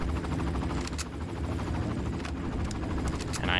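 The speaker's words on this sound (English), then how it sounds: "I hate the sound of helicopters in this game." A helicopter in the video game Far Cry flies close with a loud, steady rotor chop, punctuated by sharp bursts that may be gunfire.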